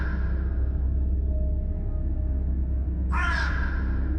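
A raven gives a single harsh caw near the end, loud and close, after a stretch of steady low rumbling background with no voices.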